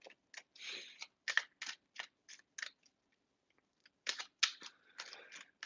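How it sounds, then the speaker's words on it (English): Tarot cards are riffled and shuffled close by in quick crisp bursts, a pause in the middle, then another run of rapid flicking. "Need to get some shuffling going."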